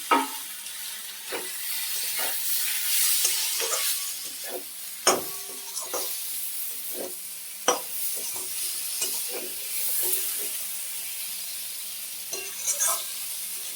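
Fried vegetables are added to spiced oil for an Indian curry and stirred with a spoon close by. A continuous sizzle is broken by repeated scraping strokes and several sharp clanks against the pan, with no voices.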